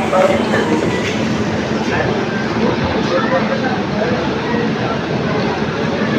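Narasapur Express at Bhimavaram station platform, a dense, steady rumble of train and platform noise running throughout, with indistinct voices mixed in.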